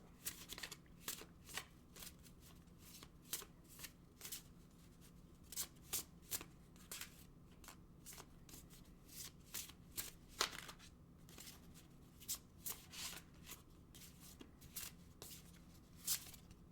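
A deck of oracle cards being shuffled by hand, with repeated crisp riffling bursts at an uneven rhythm over about seventeen seconds, close and fairly quiet against a low steady hum.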